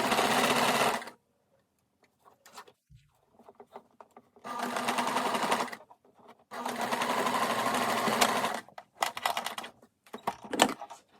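A sewing machine stitching a fabric scrunchie tube runs in several loud bursts of rapid mechanical whirring, separated by silences and a few clicks of fabric handling, close to the listener.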